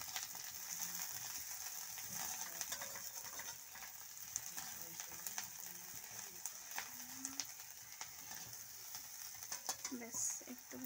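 Chopped onion and green chili fry in a wok with mustard seeds, giving a faint steady sizzle with scattered scraping and stirring taps over about eleven seconds.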